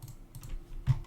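A few soft keystrokes on a computer keyboard, quiet and close, ending with a slightly louder key press.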